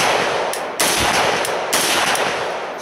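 Arsenal SGL 21 AK-47 rifle fitted with a muzzle brake firing a few loud, sharp shots at an outdoor range, reports spaced irregularly about a second apart with ringing noise between them.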